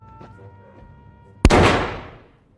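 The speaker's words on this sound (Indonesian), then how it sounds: "dia ditembak oleh seseorang." A single sharp gunshot rings out in a gangster film scene, a sudden loud crack with a short decaying tail after a quiet, low background.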